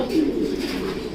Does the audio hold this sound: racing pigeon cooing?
yes